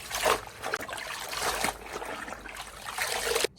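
Sweet potato leaves rinsed by hand in a basin of clean water, with close, continuous splashing and trickling that swells and eases as the leaves are swished around, no voices.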